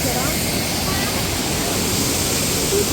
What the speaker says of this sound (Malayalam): ഞങ്ങൾ വെള്ളച്ചാട്ടത്തിൽ എത്തിയിരിക്കുകയാണ്